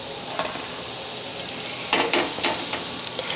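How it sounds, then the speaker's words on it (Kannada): Shankarpali sweets deep-frying in hot oil, a steady close sizzle and hiss with a few louder bubbling bursts and light stirring toward the end, no voices. "ನಾನು ಇನ್ನೂ ಸ್ವಲ್ಪ ಕಲರ್ ಬರಲಿ ಅಂತೇಳಿ ಫ್ರೈ ಮಾಡಾಕತ್ತೇನೆ ರೀ."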